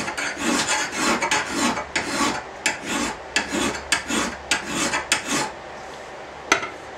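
A file is drawn back and forth across a steel lawnmower blade in a steady rhythm of about a dozen loud, close rasping strokes, with a brief metallic clink near the end.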